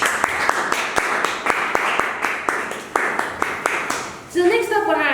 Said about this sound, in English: Let us give another round of applause to our table topics master for tonight.